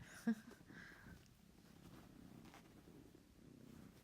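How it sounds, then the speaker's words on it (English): A soft, low continuous purr from a cat nearby, steady and quiet, with faint background noise and a brief small bump near the start. "My cat's visiting."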